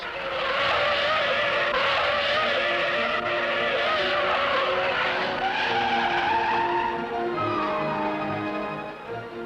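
Race car tires squeal and skid with a long, loud, wavering screech over engine roar at the 1964 Atlanta 500 stock car race, sustained for several seconds before easing off.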